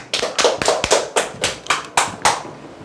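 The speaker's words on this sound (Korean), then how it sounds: "박수 한번 치시죠." A small group claps in a loose rhythm at a seminar, about ten sharp, close hand claps over a few seconds before fading out.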